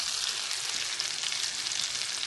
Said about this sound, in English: Presentation side down first, and that's just going to sizzle